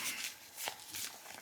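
Trimmed Druid Craft tarot cards are shuffled close by, giving soft, quiet riffling swishes in a few short bursts.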